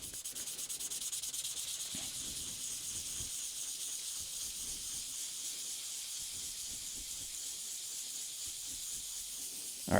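Steady, continuous hiss of sandpaper rubbing a 3D-printed part made of stainless-steel-filled PLA filament, an unbroken scraping texture that holds at an even level throughout, close up with no speech.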